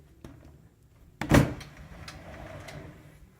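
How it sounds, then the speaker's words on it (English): Sliding doors of a TV media center cabinet in a home for sale in Bountiful, Utah, closing with one firm thud and a brief rumble, then a faint room tone as the sound settles. "These doors slide in"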